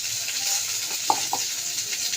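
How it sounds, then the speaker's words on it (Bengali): Potatoes sizzle in hot oil in a frying pan with a continuous soft hiss, broken by a couple of light scraping stirs from a spatula near the middle. The cooking sounds are close and fairly quiet. "আলুটাকে একটু নাড়াচাড়া করে নিলাম।"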